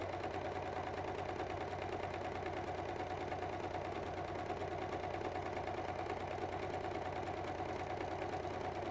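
Sewing machine stitching fabric around a curve as it is fed under the presser foot, a steady rapid mechanical whirring and ticking at moderate level, continuous and unbroken.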